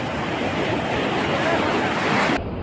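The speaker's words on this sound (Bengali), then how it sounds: "এই দেখো সমুদ্রের ঢেউগুলো খুব সুন্দরভাবে আসছিল" Sea waves breaking at Digha beach make a dense, continuous roar of surf, loud and close, with wind noise blending into the wash before it cuts off abruptly.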